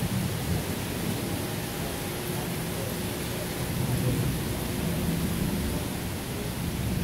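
Heavy rain pours steadily over a flooding yard, a dense continuous roar of broadband noise with low rumbling that may include distant thunder, loud and unbroken throughout.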